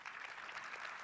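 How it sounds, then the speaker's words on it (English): A conference audience at a main-stage sports analytics event claps, a brief steady patter of applause heard from a distance and fairly faint. "wow, claps."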